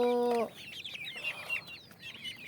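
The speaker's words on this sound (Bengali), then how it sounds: "সুন্দর মধ্যে পালতে পারলে দেশি মুরগি খুব অনায়াসেই পালা যায়।" Native country chickens on a farm give a sharp, bright call at first, then keep up a run of quick, close clucking and chattering over a quiet outdoor background.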